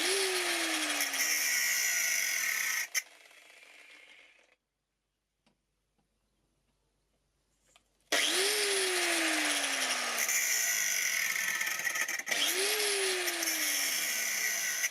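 A bench grinder sharpening a chainsaw chain, its wheel whining and spinning down in falling sweeps, loud and close, with a quiet gap of near silence between bursts of grinding noise.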